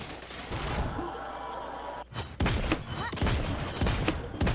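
Gunfire in the Realm Royale battle royale video game during a squads match: a steady crackle of distant shooting, then a string of louder, sharp shots, with game sounds and faint voices around them.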